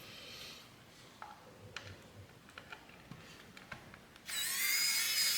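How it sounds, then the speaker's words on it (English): An electric screwdriver runs in a short loud burst near the end, removing Torx screws during a USB and TPMS module install in an Audi C7, after scattered small clicks and taps of handling parts. "An electric screwdriver helps quite a bit, makes things a little faster."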